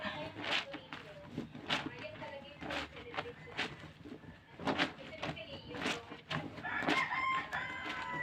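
Farmyard chickens clucking in short bursts around a rooster, with intermittent crows and rustling movement nearby, while a person talks over the birds throughout.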